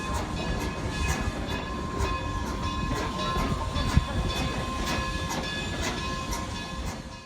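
A vintage train built in 1882 rolls steadily with a constant low rumble, faint hiss and regular clicking from the rails, with one brief knock partway through.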